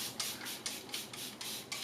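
A spray bottle misting water onto soaking-wet curly hair, five short hissing bursts in a steady rhythm, close and fairly soft with no talking.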